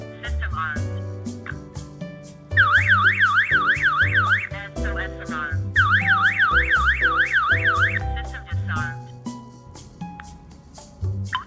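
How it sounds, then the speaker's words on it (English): A burglar alarm host triggers its SOS alarm, giving a loud warbling siren that sweeps up and down in two long bursts over a tonal background. "SOS alarm."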